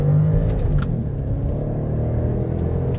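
A BMW X5 E70 with the 4.8-litre M Sport engine revving hard at full throttle, a loud, steady, deep engine drone held close for the whole stretch.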